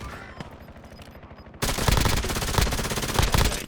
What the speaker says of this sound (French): La mini-tourelle est activée